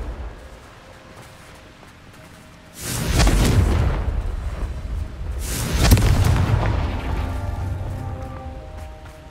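Two heavy Confringo spell explosions in Hogwarts Legacy, each a loud, booming blast a few seconds apart that rolls off into a long rumbling decay.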